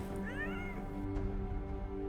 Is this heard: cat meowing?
yes